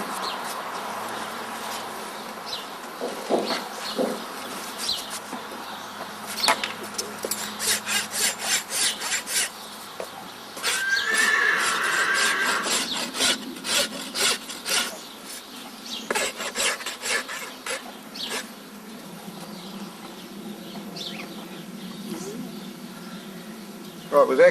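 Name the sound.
rasp filing a Clydesdale horse's hoof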